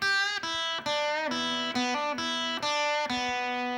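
A clean, slightly effected electric guitar plays a short E blues phrase, sustained single notes each picked with a clear attack, without any voices.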